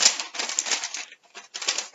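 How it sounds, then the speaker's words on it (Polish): Sheets of household paper are handled and rustled up close, with dense crinkling bursts for about a second, a brief pause, then another short rustle. "Weźcie papier do rączki, jaki ten macie w domu i dotknijcie go."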